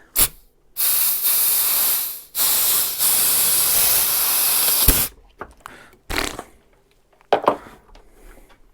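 Loud bursts of compressed air hiss and blast from a nozzle into a Honda CB750 brake caliper to push out the pistons, several long blasts followed by shorter sputtering puffs.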